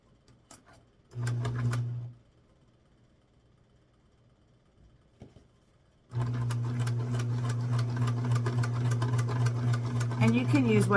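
A sewing machine set to straight stitch runs a quilt seam along a pinned edge, a short whirring burst followed by a longer steady, close-up run of rapid mechanical stitching.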